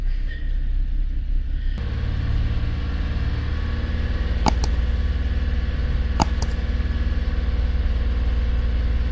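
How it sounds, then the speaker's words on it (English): A car engine revs up to about 2,000 RPM during a battery test. After a quieter opening it rises abruptly into a loud, steady mid-range drone that holds for the rest of the clip, with a couple of brief clicks and no talking. "we're going to rev it up."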